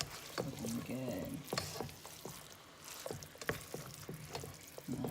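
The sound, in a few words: onions, meat and seasonings cooking in a pot for chili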